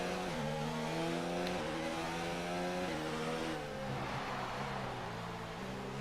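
Formula 1 car engine in the racing game F1 2019 revving hard and accelerating, a loud sustained whine that climbs through gear changes with stepped pitch drops, continuous and up close.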